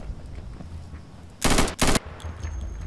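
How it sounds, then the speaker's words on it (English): Automatic gunfire in the tactical shooter Insurgency: two short, loud bursts of rapid shots in quick succession, standing out sharply against quiet in-game ambience. "Oh God, I'm being shot at."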